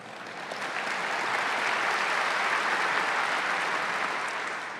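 Audience applause rises after a speech, a broad, even wash of many hands clapping that swells within a second and holds steady before easing off slightly.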